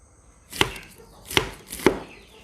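Three crisp knife chops slicing winged beans on a cutting board, spaced evenly about a second apart, close and fairly loud with quiet between strokes.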